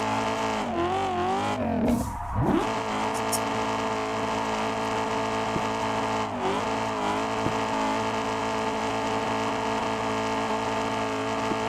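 Car engine revving and tires squealing while drifting around the Daggerfall track in Assetto Corsa, a steady loud engine drone with pitch sweeps as the car shifts and slides, continuous throughout.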